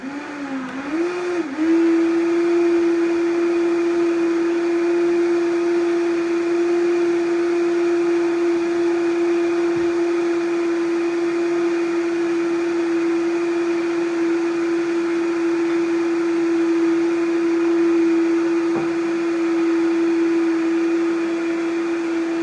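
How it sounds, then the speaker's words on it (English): A blender whirs steadily, blending coconut and Brazil nut milk with a heaping spoon of protein supplement. The motor spins up briefly, then holds one loud, even whine for the full twenty-odd seconds with no talking. "I might go 2 in there, and just blend it up again."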